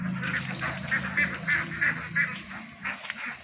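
Ducks on a poultry farm raised for sale quack in a run of honking calls, several close, loud bursts spaced rhythmically over a few seconds with no talking.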